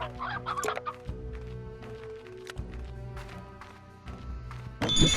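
Chickens cluck in a repeated, close, moderately loud series in the video game Slime Rancher, with light tapping steps, a burst of other game noise at the very end and no voices.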